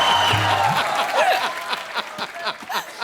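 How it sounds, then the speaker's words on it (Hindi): A studio audience on The Kapil Sharma Show, a television comedy show, applauding and laughing. The clapping is dense and close at first, then thins into scattered claps mixed with chuckles and voices. "जोरदार तालियां"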